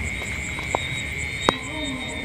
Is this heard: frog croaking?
yes